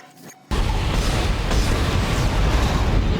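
Explosion in the Dead Space video game, a sudden loud boom breaking a quiet moment and rolling into a heavy, sustained crashing rumble with no talk.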